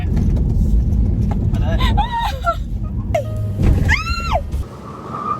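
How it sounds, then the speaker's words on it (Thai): An MG HS PHEV plug-in hybrid spinning its tyres on a test drive, with a low engine rumble under loud tyre squeals rising and falling, while people inside talk and shout. "ออกล้อฟรีอะแรงจัดอะ"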